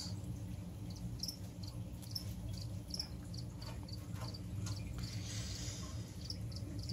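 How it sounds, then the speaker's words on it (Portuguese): Crickets kept as feeder insects near a tarantula enclosure chirp in quick repeated trills over a low background hum, faint and steady throughout. "Esses grilos são chatos."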